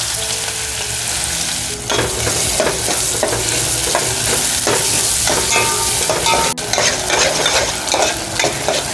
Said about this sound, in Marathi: आत्ता जो कांदा कापून घेतला आहे तो कांदा कापून टाकून घ्यायचा आहे